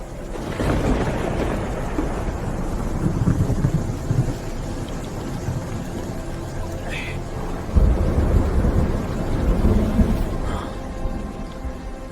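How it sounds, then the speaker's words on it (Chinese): Rain falls steadily through a thunderstorm, with low rolling thunder rumbles swelling twice and faint voices under the downpour. "下雨了"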